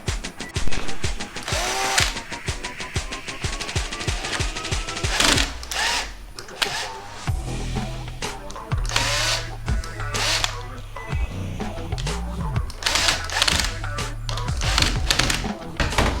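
A clamp being screwed onto a motor for a robot base, close ratcheting clicks and rapid mechanical tool bursts, later joined by a low steady motor hum, with a voice talking over parts of it.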